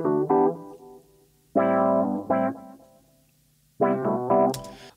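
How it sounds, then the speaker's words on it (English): Rhodes electric piano chords through pedalboard effects with a warbling, slightly distorted tone, played in three sustained stabs that ring and decay between them. "I have the pedal board on Rhodes here"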